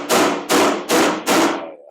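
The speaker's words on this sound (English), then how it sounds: "Wanting to maybe use the rubber hammer at this point." A rubber hammer strikes the sheet metal of a 1956 International pickup cab-over truck cab four times in an even rhythm, each blow a loud, close thud with a short ringing tail.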